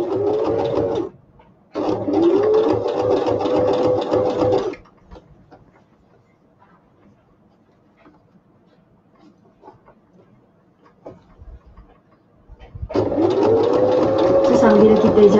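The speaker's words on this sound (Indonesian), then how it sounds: "Bila kita jahit bahagian dinding keliling leher tu, Abel akan terangkan sikit lah." A sewing machine stitches around a garment neckline in fast, loud bursts, stopping briefly, then running again before a long quiet pause and a final burst.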